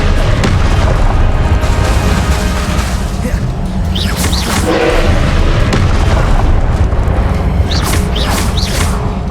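Loud, booming blasts of Confringo explosion spells in Hogwarts Legacy hit repeatedly amid dense combat noise, with sharp bursts and crashes layered over a constant rumble, and a voice faintly present.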